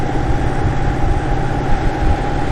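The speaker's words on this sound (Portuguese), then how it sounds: "estou sempre a passar comboios aqui do lado" A train runs alongside the road on Route 66 in New Mexico, heard as a loud, steady low rumble and rolling drone that holds without a break, close and continuous with no talking.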